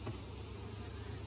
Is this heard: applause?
no